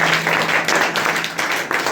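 A youth meeting audience clapping for the Lord, a loud, dense burst of applause from a crowd, close and lively with uneven swells across the moment.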